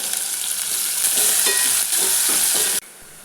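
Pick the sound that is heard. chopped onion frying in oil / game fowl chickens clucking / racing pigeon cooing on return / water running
chopped onion frying in oil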